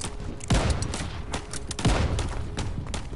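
Shots crack out in the shooter video game Call of Duty Vanguard, two heavy reports standing above a continuous busy din of scattered battlefield gunfire.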